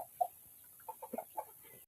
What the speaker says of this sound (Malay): Palu nak ambil ayam tu